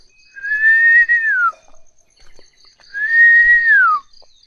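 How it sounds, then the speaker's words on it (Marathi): Two long, clear whistled calls in quiet countryside in the morning, each a sustained tone that slides downward at its end, separated by a short pause, close and loud against near silence. "सकाळी पक्ष्यांचा आवाज एकदम भरपूर असतो आणि वेगवेगळ्या पक्ष्यांचा."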